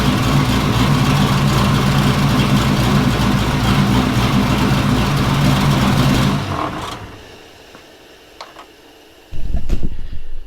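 A big-cam LS V8 idles loud and close with a lumpy, steady rumble while warming up, then the engine cuts off into quieter background, with a brief knock or clatter near the end.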